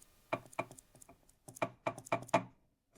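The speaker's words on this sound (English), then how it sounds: "Whereas a healthy saxophone should sound like this." Pads and keys of a healthy saxophone being pressed and released, giving a run of soft, clean clicks and thuds in two quick groups, close and fairly quiet, with no metallic rattle.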